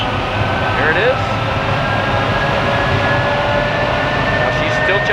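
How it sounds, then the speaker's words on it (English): Jet engine of the Hellfire jet truck running with flame out the back, a loud continuous roar with steady whine throughout, people talking faintly beneath it. "He's got flame out the back, you can hear it."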